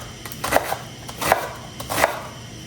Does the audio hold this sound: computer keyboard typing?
no